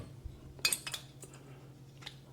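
Metal clinks as an MSR Pocket Rocket stove is fitted onto a metal fuel bottle: a few brief, close, sharp taps and rattles clustered together, then quiet.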